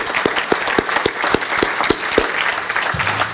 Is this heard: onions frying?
no